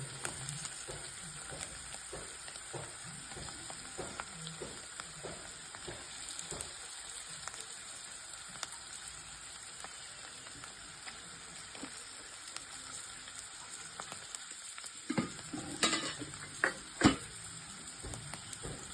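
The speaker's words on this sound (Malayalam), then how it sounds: "നമുക്കെല്ലാം ഇളക്കിയിട്ട് ഫുൾ തീയിലിട്ടിട്ടൊന്ന് ഫ്രൈ ചെയ്തെടുക്കാം" Quiet, continuous sizzle of small squid frying in a pan over high flame, with soft scattered crackles and a few louder stirring clatters near the end.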